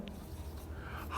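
Marker or chalk scratches across a board in a lecture room, a faint continuous scraping rasp with small strokes, heard close amid low room noise.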